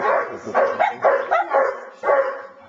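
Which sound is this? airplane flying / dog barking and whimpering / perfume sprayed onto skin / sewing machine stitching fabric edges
dog barking and whimpering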